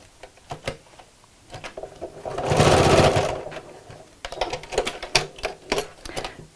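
A sewing machine runs a short burst of stitches across the top of a recycled denim bag handle, a close mechanical whir lasting about a second, surrounded by clicks and handling taps of the fabric.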